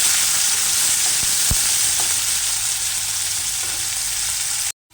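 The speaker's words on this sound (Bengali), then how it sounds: "ফোড়নের সাথে পেঁয়াজটা ভালোভাবে ভেজে নিতে হবে।" Sliced onions fry in spiced oil for a pabda fish dopiaza, giving a steady, close, dense sizzle with a couple of small pops and stirring taps, ending abruptly in silence.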